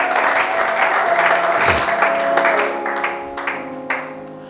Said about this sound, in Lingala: Acclame pour la gloire de notre Dieu.